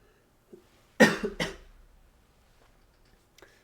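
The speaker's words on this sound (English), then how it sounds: "I'm coughing up a storm" Two sharp, close coughs in quick succession from an esports commentator, then quiet with faint small noises around them.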